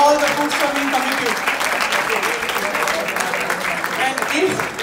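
An audience at a Jain Society of Houston gathering gives the food serving committee a sustained round of applause, a loud, dense clatter of many hands with voices and cheers mixed in throughout.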